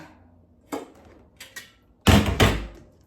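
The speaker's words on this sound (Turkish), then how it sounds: "Neyse bakayım şunun ağzını kapatayım." A container lid pressed shut in a home kitchen, a few light knocks followed by a louder double clack as it seats closed, near and alone.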